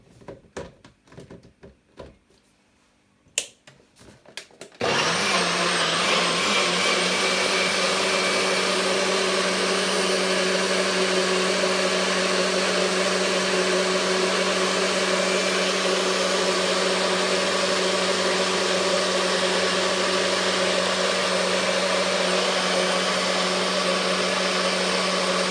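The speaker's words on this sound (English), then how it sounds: "We're gonna just blend it up now." Blender whirring through cherries, ginger and lemon for juice, starting abruptly after a few seconds of quiet clatter and then running loud and steady without a break to the end.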